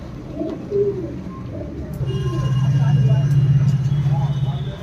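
Madrasi pigeons coo in low, throaty murmurs close by, a steady rolling coo building in the second half amid faint background noise.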